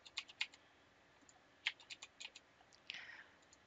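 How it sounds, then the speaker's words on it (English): Fingers tap out a passphrase on a computer keyboard: a quiet, close run of separate key clicks in short bursts with brief pauses, ending in a firmer keystroke. "type in the passphrase again"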